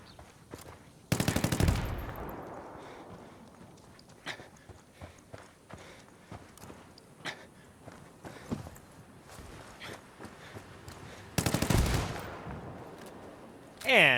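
Gunfire rings out in Ghost Recon Wildlands: two sharp, loud bursts of automatic fire a few seconds apart, with scattered single shots and impacts clicking in between, and a further burst at the end.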